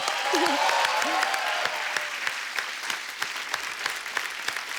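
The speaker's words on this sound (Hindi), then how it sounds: "पहले तो इस बात के लिए तालियां।" A studio audience on a Hindi comedy talk show breaks into applause, loud at first and then thinning into scattered claps, with a brief whoop near the start.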